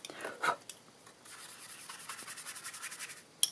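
Brush sweeping stray white embossing powder off a crafting surface, a quiet run of soft, rhythmic scratchy strokes close by, with a few louder brushes at the start and end.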